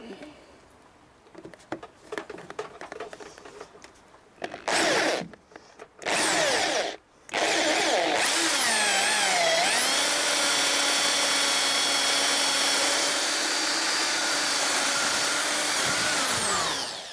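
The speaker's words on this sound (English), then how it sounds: "Still drilling." A power drill bores into metal on a rusty Yamaha XJ900S motorcycle, starting in short loud bursts and then running as one long steady whine with a falling pitch.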